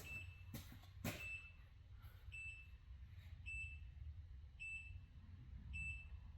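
Faint, regular electronic beeping in a garage where work is being done on a 400cc ATV: short high chirps repeating about once a second, with a few louder clanks early on and no speech.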